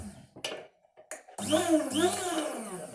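A Holmer HGC-002 electric coffee grinder starts with a couple of short clicks and bursts, then runs with a loud, steady whirring motor hum that holds to the end.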